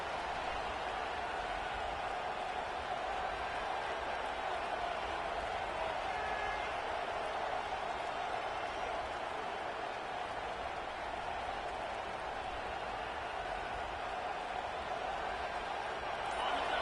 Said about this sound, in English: The roar of the crowd trying to fuel this defense to keep them pinned in their own end.